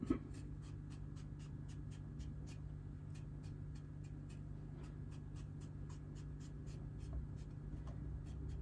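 A Sukenari HAP40 210 mm kiritsuki knife peeling a potato, making a quiet, regular series of short scraping strokes over a low steady hum, with no talking.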